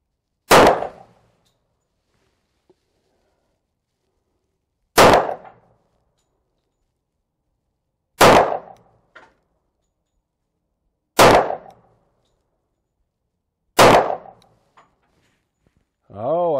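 Five sharp, loud gunshots from a 10mm pistol firing HSM ammunition in cold weather across a chronograph about three yards downrange, evenly spaced a few seconds apart, each cracking alone and decaying quickly into silence.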